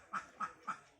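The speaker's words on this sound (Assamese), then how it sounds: "এইকেইটা হাঁহ চৰি আছে, দেখিছেনে?" Ducks at a rural home in Assam give three evenly spaced quacks, soft and fairly close, with quiet gaps between them.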